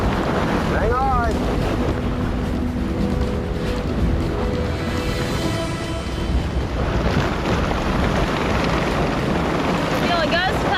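Strong tropical storm gusts from Hurricane Gustav roar across Lake Pontchartrain, a dense, unbroken buffeting rush with microphone wind noise that swells loud throughout, while a voice calls out briefly.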